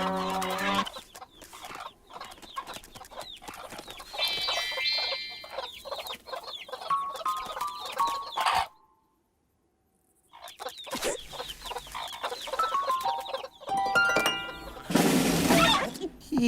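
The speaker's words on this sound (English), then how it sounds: "there just so happens to be a bunch of chicken in front of him" Cartoon chickens in Oscar's Oasis cluck and squawk in busy overlapping bursts, close and lively, then fall silent for a moment before more clucking and a loud flurry near the end.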